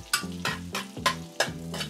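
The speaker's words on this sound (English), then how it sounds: "garlic and ginger. Just wanna give it a nice saute." Garlic and ginger being sautéed in a hot pan, with a low sizzle broken by regular scraping stir strokes roughly three times a second, close and clear.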